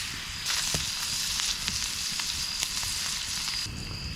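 Strip steak frying in butter in a pan over a campfire, a bright, dense, close sizzle that holds steady with small crackles throughout, no talking.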